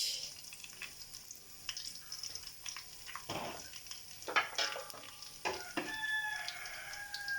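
Green chili dropping into a hot frying pan while cooking chicken shorba, sizzling in short bursts over a steady background hiss, with clucking-like crackle accents near the end.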